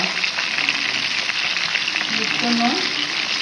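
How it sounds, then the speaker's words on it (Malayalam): Mango pieces fry in hot oil for pickle with a steady, loud sizzle and crackle, a faint voice briefly audible underneath. "ലാസ്റ്റത്തെ മാങ്ങ കൂടി വറുത്തെടുക്കണം"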